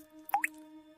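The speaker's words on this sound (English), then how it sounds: "And it just dripped on me from the attic." A single drop of liquid falls from the attic, landing in one quick wet plop with a brief upward squish, heard close over a steady faint tonal hum.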